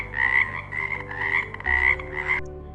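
Frogs croak in a loud, close chorus of repeated raspy calls, about five pulses in quick succession before trailing off, with no voices.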